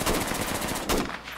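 Rapid submachine gun fire in the Project Reality infantry game, a fast steady burst of close, loud shots with a brief pause before the firing resumes.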